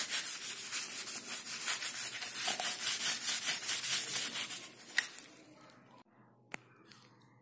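A household electrical switch board being scrubbed of dirt and paint stains with firm pressure: rhythmic, close rubbing strokes for several seconds, then the scrubbing stops, leaving a few faint clicks.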